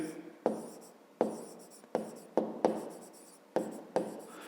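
Pen or pencil writing out a fifth-grade math solution on paper, heard up close as a series of quick scratchy strokes with sharp starts, about seven bursts in steady succession, with no talking.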